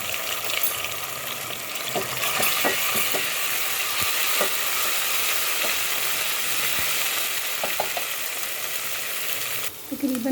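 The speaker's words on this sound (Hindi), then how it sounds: "3 टीस्पून ऑयल के शामिल किए है और अब हमने इसे लाइट ब्राउन करना है।" Cumin seeds and garlic-ginger paste fry in about three teaspoons of oil for a masala kaleji, giving a steady close sizzle with scattered pops and stirring scrapes throughout, no voices.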